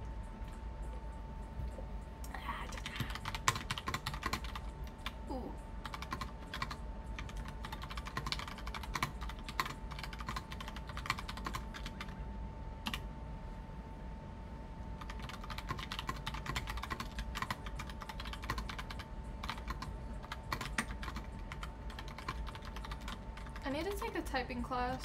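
Steady typing on a computer keyboard, a dense run of quick clicky keystrokes that continues throughout, with faint background noise and a steady tone underneath.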